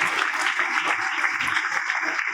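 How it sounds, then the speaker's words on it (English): An audience at a school honors event applauds achievers, a continuous even patter of clapping with some voices murmuring underneath. "we can expect some great round of applause for the achievers"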